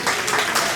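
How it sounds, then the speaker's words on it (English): A graduation audience claps in a short, dense burst of applause, close and fairly loud, lasting under a second. "give them a round of applause"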